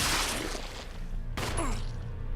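Gunfire in Resident Evil Zero produces two sharp, loud bursts, one at the start and another a little over a second later, each trailing off into a ringing decay.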